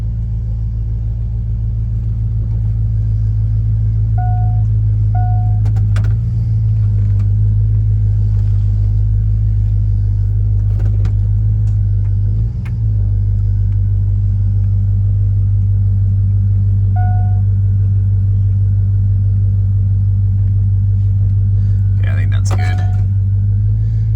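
Engine of a 2002 Cadillac Escalade idles with a loud, steady low rumble that holds for the whole stretch, broken only by a few faint clicks and knocks.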